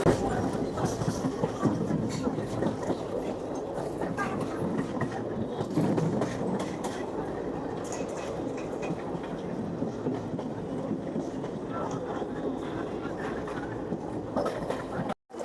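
Aboard a Sealdah to Tarapith passenger train, a steady rolling rumble of wheels on rails continues without a break, with faint voices mixed into the constant noise.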